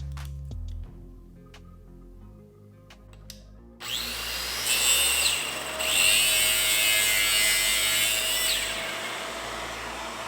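Plastic being cut away from a Gundam model part with a small power tool: a steady, fairly loud whining buzz that follows several seconds of quiet clicking and handling, with no voices.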